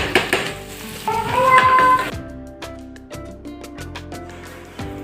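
Onions frying with asafoetida and salt in a home kitchen pan, steady sizzle with clinks and stirring knocks, close, with a brief bright tonal squeal early on.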